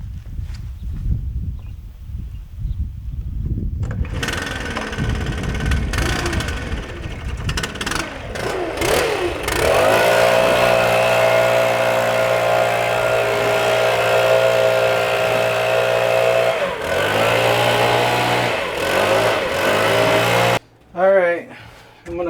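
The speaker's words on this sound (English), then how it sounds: "right now I'm going to fire up the leaf blower and just get all the dust and sawdust off" After some handling noises and a few seconds of low rumble, a small engine starts and runs with a loud, steady droning whine that dips now and then.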